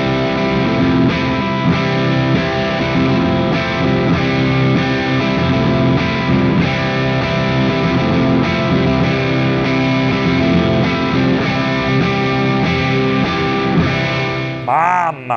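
A PRS electric guitar with light distortion and both pickups engaged plays continuously for about fifteen seconds, loud and full-bodied, with sustained chords and notes and no talk.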